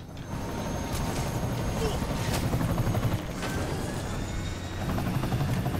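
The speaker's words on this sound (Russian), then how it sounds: "Да вертолет не может с такой штукой летать," A helicopter in the video game Marvel's Spider-Man Remastered keeps up a continuous rotor chop, mixed with mechanical clatter and a few sharp game effects.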